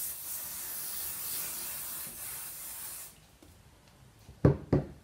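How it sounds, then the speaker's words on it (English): A steady aerosol spray adhesive hisses onto quilt wadding for about three seconds, then stops, followed by a couple of soft handling rustles and taps. "So I'm going to spray the back of the wadding just lightly."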